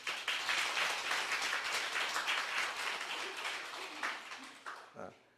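An audience claps together to welcome family members: a dense, steady burst of many hands clapping that slowly thins and fades out, with a voice briefly emerging as it dies down.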